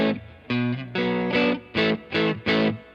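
A clean 1950s Fender Stratocaster in the fifth pickup position, played through a Fender Blues Junior amp set just on the edge of breakup, rings out in six warm strummed chords with a few brief gaps between them.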